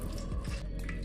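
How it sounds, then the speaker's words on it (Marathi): Water dripping and trickling from fresh chhena being squeezed in a cloth over a sink, with several close splashy drips in a short burst. "आता कपड्याच्या मदतीने छेन्यामधील सर्व पाणी काढून घेऊ।"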